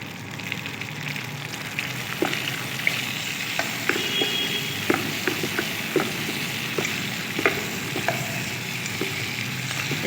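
Onion and tomato fry in hot oil in a pan, a steady bubbling sizzle broken by scattered sharp pops and crackles, close and even in level, alone without any talking.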